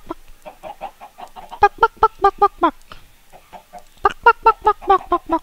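Rapid bursts of loud, close chicken clucking and squawking from a video game, in quick rhythmic runs with a short lull in the middle; no talk.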